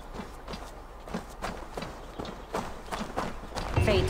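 Horse hooves in Assassin's Creed Valhalla clop in a steady, moderately loud rhythm across the whole stretch, set against a soft bed of ambient game sound.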